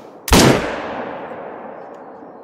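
A single loud, sharp rifle shot in the hunting game Call of the Wild rings out close, then fades in a long, echoing tail.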